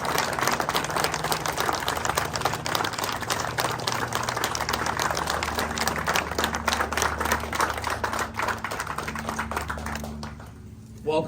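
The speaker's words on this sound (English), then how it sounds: "let's give all our guests of honor a round of applause" Audience applause for Vietnam War veterans at a commemorative ceremony, dense continuous clapping from a large crowd filling the space for about ten seconds, then dying away abruptly.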